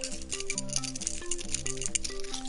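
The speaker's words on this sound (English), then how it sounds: "The chain rattles a lot, and it makes a very loud noise." Steady metallic jingling and rattling of a key chain, continuous and fairly faint, with a tonal hum underneath.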